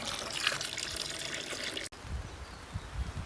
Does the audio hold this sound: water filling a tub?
yes